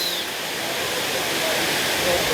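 Waterfall with water pouring down from above on an overcast day, a loud, continuous broadband rush heard close by and unbroken throughout.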